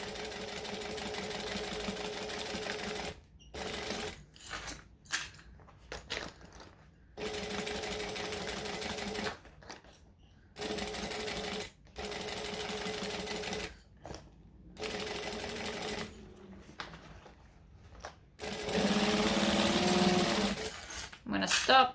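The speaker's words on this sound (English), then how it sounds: "I'm going to stitch and I'm going to back stitch." A sewing machine stitches fabric in several steady motor runs separated by short silent stops, close and even, with a louder, faster burst near the end for back stitching.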